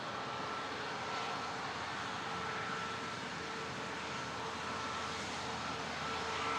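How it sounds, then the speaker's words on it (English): A Lufthansa airliner on flight 471 to Frankfurt takes off at Toronto Pearson airport, its engines giving a steady, loud roar that stays even for the whole stretch. "That's Lufthansa flight number 471 headed to Frankfurt."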